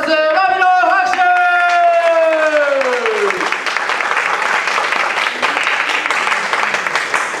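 An audience at a dance battle event in Sapporo breaks into loud, dense applause, steady clapping continuing for several seconds after a drawn-out vocal tone fades beneath it.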